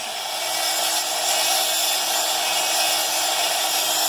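A rotary tool bit grinding a window into fire agate makes a steady, high-pitched whining buzz, close and continuous throughout with no pauses.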